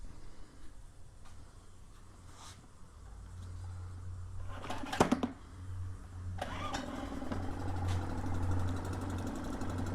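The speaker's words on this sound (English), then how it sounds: "And then go ahead and start the motor up" A Suzuki DF2.5 outboard motor is pulled to start around the five-second mark, then settles into a steady, close running drone that lasts to the end, with a low hum beneath it throughout.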